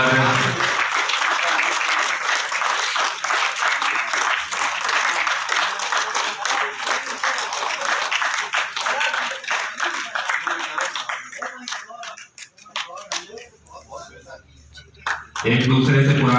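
Hall audience honours a guest with strong, sustained applause, many hands clapping loudly for a long stretch before it thins and fades, and a voice returns at the very end.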